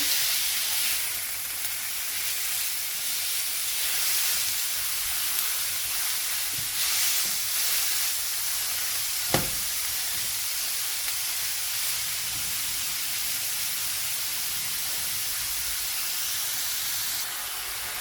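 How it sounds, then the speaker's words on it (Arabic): Minced meat fries in a pan while releasing its juices, making a steady hissing, steamy sizzle at moderate level, with one sharp utensil knock partway through. "كي راهو تشوى اللحم، وشوفي ما درنا له والو، ملصق ما حتى حاجه، وراهو يطلق في الماء تاعو"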